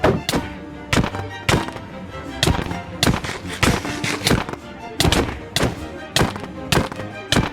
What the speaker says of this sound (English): Orbital strike cannon fire!